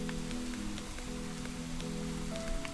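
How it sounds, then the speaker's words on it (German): Steady rain falling on surfaces in the video game Deilad, a continuous hiss with scattered droplet ticks, layered over a low musical drone and game ambience. "Ah, hier gibt es wieder Regen."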